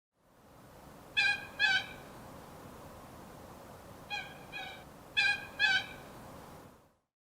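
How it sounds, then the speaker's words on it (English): Coot calls ring out in four short, sharp bursts, two paired early and two paired later, each loud and clear above a steady low background hiss with no talking. "Coot."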